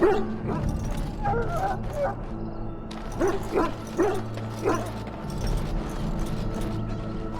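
Dogs in a kennel in Dragon Age Origins yip, whimper and bark in short clustered bursts, fairly close, mixed with mechanical clanking and a faint voice in the background.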